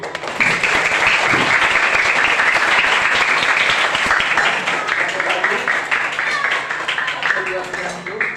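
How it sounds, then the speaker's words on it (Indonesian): Children's audience at an Indonesian school event clapping and cheering together, a dense, continuous round of applause that carries steadily for the full stretch and tapers slightly at the end. "Ya, tepuk tangan."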